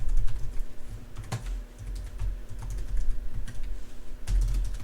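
Typing an email address on a computer keyboard in a quiet room, with a steady run of close keystrokes and a few louder taps, no voices.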